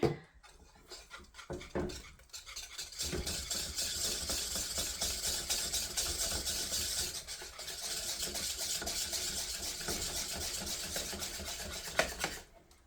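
A spoon works through a milk, butter and powdered sugar frosting with a quiet, continuous rubbing and rasping scrape that stays steady and close, fading briefly near the end.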